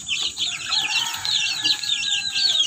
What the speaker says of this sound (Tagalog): Pakain na tayo ng manok, guys.